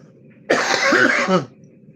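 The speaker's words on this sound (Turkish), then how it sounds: "bir de öksürüğümüz olmasaydı iyiydi." A single harsh, loud cough burst of about a second from a person close to the microphone, standing alone against a quiet background.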